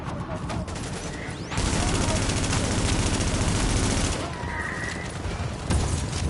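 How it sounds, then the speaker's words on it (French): Sustained machine gun fire in the video game The Division, a dense, loud burst of rapid shots lasting several seconds amid lighter scattered gunfire and game sounds. "Ah, il y a une mitrailleuse là."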